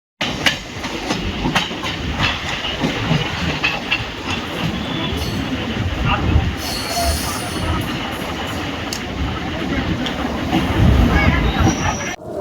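Chennai suburban EMU local train running at speed, a dense continuous rumble with rail clatter and brief wheel squeals, heard from on board with faint voices underneath.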